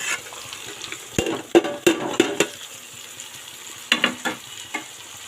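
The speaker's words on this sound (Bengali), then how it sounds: "তো আমি এর মধ্যে টমেটো, আদা, রসুন আর কাঁচা লঙ্কা সব দিয়ে দেবো।" Onion already browned sizzles in a pan as tomato, ginger, garlic and green chili are tossed in for a chicken curry, with a steady fry hiss broken by several sharp spoon-on-pan stirring clacks and scrapes, close and fairly loud.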